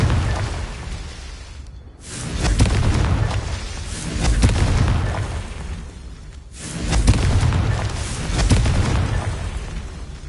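Confringo fire spell from the game Hogwarts Legacy, two loud booming blasts a few seconds apart, each swelling into a long, heavy roar before cutting off sharply.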